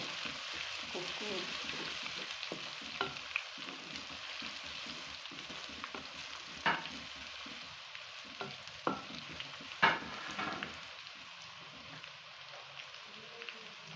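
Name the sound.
garlic and ginger frying in a pan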